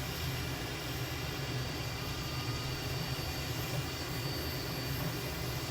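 An M-346 jet in Microsoft Flight Simulator rolls down the runway at full throttle, a steady dense engine roar with broad rushing noise, constant and unbroken, no voices.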